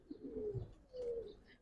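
A black-beaked, black-bodied domestic pigeon gives two soft, low coos in succession, close and fairly quiet, with faint chirps in the background and no speech.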